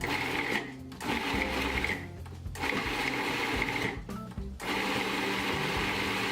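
A food processor chops cubed leftover ham into crumbs in loud whirring bursts, three short gaps breaking the steady motor drone.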